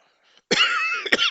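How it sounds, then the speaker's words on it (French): A man indoors gives a single harsh cough, a loud rasping burst with a short second catch, close to the microphone after a near-silent moment. "j'arrête pas de tousser"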